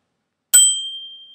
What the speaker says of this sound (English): The second bell, where you flick the arm and it makes a sound like this.